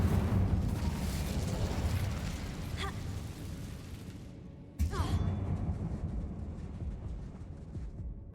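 An Incendio fire spell in Hogwarts Legacy, cast inside a closed tomb-like cave: a continuous roaring, crackling burst of flame that fades, then a second sharp flare cuts in and rumbles on at moderate loudness.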